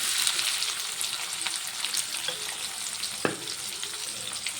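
Curry leaves and onions frying in hot oil for a potato curry: a crackling, spattering sizzle with spoon scrapes and a sharp knock near the end, close and steady, no talking.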